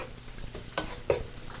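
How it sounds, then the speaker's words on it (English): Seasoned braciole stirred in a pan, with soft sizzling under two sharp utensil scrapes against the pan, close and brief. "Now we're just going to stir this around"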